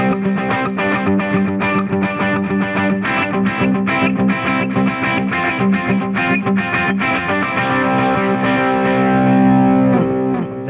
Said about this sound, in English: if I play an 8th note based rhythm, but I set my delay to a dotted 8th, it gets all of this cool delay and reverb effect going on